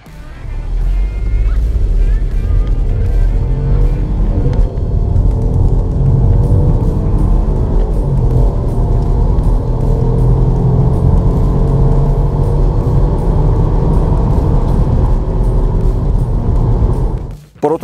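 A BMW 118i Sportline accelerates hard, a loud continuous engine drone and road rumble heard from inside, rising steadily in pitch and holding strong for the length of the run before cutting off abruptly.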